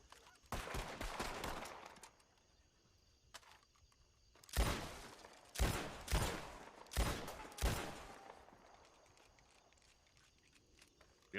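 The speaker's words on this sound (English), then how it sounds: "Y'all shooting?" Gunfire in the WildRP western roleplay game: a cluster of sharp shots early on, then four loud, evenly spaced reports echoing one after another, with quieter background ambience between them.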